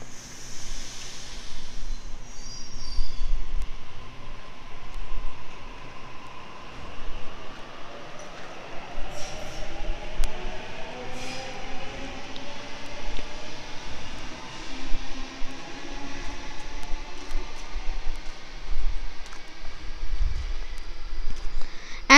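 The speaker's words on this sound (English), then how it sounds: "A26 now departing." Sydney suburban train pulling away from the platform at Ashfield station, a sustained moderate rumble with rising whining motor tones and occasional squeals as it gathers speed, lasting throughout without speech.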